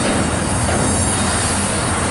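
A long train rolls steadily past on the railway, its wagons and wheels making a continuous loud rumble with faint squealing and clatter from the rails, close by and without pause.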